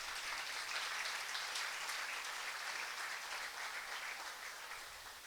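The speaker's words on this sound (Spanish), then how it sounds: "Démosles un aplauso muy fuerte a ese Señor." Sustained, steady applause from a church congregation at a Sunday service, a dense wash of clapping that holds strong and fades slightly toward the end, with no voices over it.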